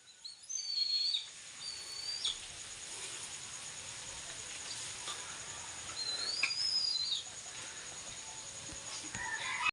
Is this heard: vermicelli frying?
no